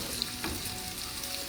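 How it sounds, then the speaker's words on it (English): Salmon fillets pan frying in a pan, a soft continuous sizzle with faint crackles, fairly close and quiet. "pan frying the salmon, just enough to get it brown on one side"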